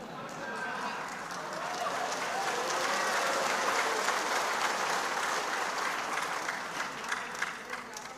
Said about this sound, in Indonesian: Dari tadi kok tepuk tangan terus.